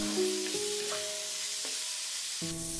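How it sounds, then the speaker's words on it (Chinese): Beef brisket stir-fried in a wok with cinnamon bark and bay leaves gives a steady, soft sizzle, with a few faint scrapes of stirring and some sustained tonal background music. "然后再次翻炒均匀，将这几种大料的香味炒出来"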